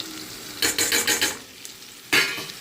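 Onions frying in a pan with turmeric, salt, cumin powder and coriander powder for a spinach curry, close, with a burst of scraping stirs against a soft sizzle, then a pause and one more stroke; no one speaks.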